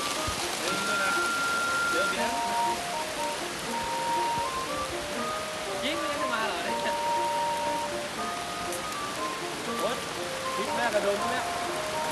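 Steady rain falling in the evening at a riverside fishing camp in Thailand, a dense continuous hiss with scattered drips throughout, while birds or faint voices chirp and call in the background.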